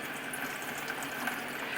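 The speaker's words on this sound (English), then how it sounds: "just rinsing that under my filtered water" Filtered tap water runs steadily over cooked quinoa pasta being rinsed in a strainer, a constant close hiss of flowing water with no pauses.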